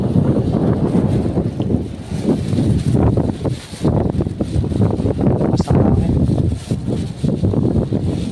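Strong wind outdoors buffets the microphone in loud, rumbling gusts that rise and fall continuously with no voices over them.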